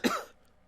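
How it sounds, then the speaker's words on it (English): A single short, sharp cough from a man on a live talk broadcast, close to the microphone, followed by a quick decay into quiet. "Apologies for the cough, folks."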